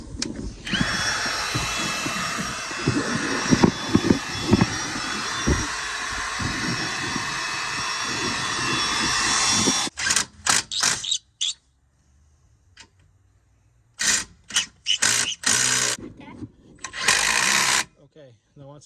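A drill fitted with a wire brush scours corrosion during a wheel bearing replacement, whirring loudly and continuously for about ten seconds, then running in several shorter bursts separated by pauses.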